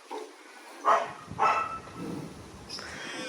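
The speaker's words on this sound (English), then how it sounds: "It doesn't help with the puppies all being annoying and barking" Several puppies barking and yipping at a stable, with a few short, fairly faint barks spread irregularly among quieter whimpers and background noise.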